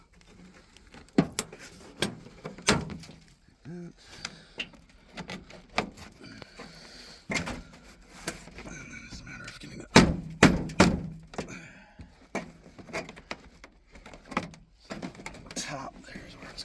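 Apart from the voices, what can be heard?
car door panel clips popping off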